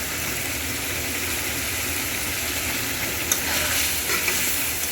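Raw rui fish fries in hot oil and spices, a steady close sizzle and crackle throughout, with a few sharper pops and a stir near the end.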